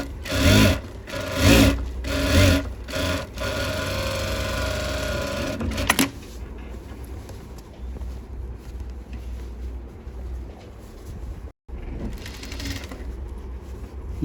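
A sewing machine stitches the side seam of a pattupavadai skirt, running in loud, steady bursts up close with short pauses. It then settles into a quieter, continuous hum with a brief stop near the end.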